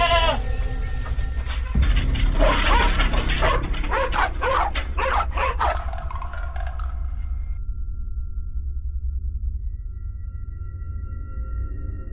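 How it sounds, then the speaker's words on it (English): Dog barking aggressively inside a barn at night near a tethered goat, a rapid burst of loud close barks that stops abruptly, leaving a low hum. "A dog noticed first, barking aggressively and charging toward the creature."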